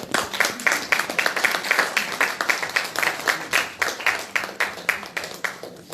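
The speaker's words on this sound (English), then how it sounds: "Come on, clap yourself." An audience at a disability organisation's regional assembly opening ceremony claps in a lively, uneven burst of hand claps, close and fairly loud, with no speech over it.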